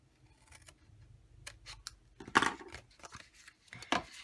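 Scissors snip paper cut for a Stampin' Up! matchbox slider box, a few crisp separate cuts, the clearest around the middle and near the end, with quiet handling between them.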